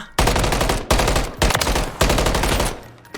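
Loud automatic gunfire in Call of Duty: Modern Warfare III, four rapid close bursts with brief gaps between them, no talking over it.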